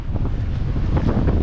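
Strong wind at the seaside on a wave-churned day buffets the microphone in a loud, continuous roar, with a low rumble of surf beneath and no talking.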